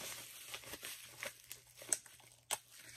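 Crinkling and tearing of bubble wrap and tape as slime containers from an Etsy shop are unwrapped, close, soft rustles with a few sharper crackles.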